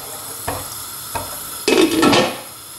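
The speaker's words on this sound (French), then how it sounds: "Alors j'ai continué à mélanger ma soupe pendant la cuisson" Fava bean soup (bissara) stirred in a cooking pot: two soft scrapes against the pot, then a louder second-long burst of stirring and scraping close by, with no talk.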